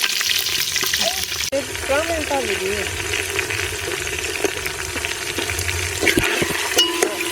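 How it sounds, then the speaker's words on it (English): Fresh onion fries in a pot of oil for a rice and tomato stew in Togo, a loud steady sizzle with stirring scrapes and a sharp knock early on, while a voice talks briefly over it. "we are cutting some onion into our pot of oil just to give it that nice smell"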